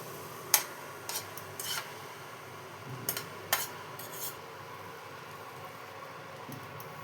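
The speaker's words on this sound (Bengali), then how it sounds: "এবার এই ডিম ভেজে রেখেছিলাম, এটা আমি মিলিয়ে দেবো এরকম।" Fried egg is stirred into egg chow mein in a pan, producing a few soft, brief scrapes and rubs of utensil on pan against quiet background hiss.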